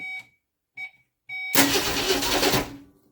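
A 1964 Comet that sat for 23 years cranks over: three short starter bursts, then a long, loud, steady grinding crank close by, with no voices.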